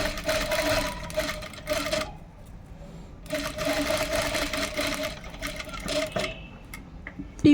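A sewing machine stitches lace onto a sleeve in quick bursts of rapid mechanical chatter, stopping briefly between runs and then starting again, close by and fairly soft.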